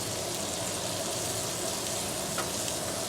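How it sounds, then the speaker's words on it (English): Jarred mushrooms sweating in a little oil in a pan, a steady, soft sizzle that stays even and unbroken throughout. "we're going to allow these to sweat down"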